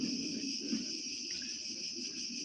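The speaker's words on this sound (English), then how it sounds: "you hear the crickets in the background." Crickets chirp in a steady, continuous high trill behind a low background hum, with no talk, the insect drone holding level for the whole stretch.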